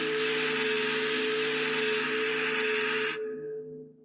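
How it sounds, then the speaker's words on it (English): Deep, steady horn blast modeled on the Titanic ship's horn, with layered low tones and bright upper harmonics holding loud and even for about three seconds before cutting off and trailing into a short echoing decay. "I'm gonna actually be introducing Titanic's horn before I say go."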